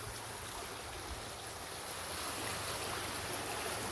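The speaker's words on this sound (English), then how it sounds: "We'll take a look at these very pretty water features as the water cascades down." Water cascading down ornamental water features at a veterans memorial cemetery, a steady broadband rush and splash that holds constant and swells slightly louder partway through, with no voices.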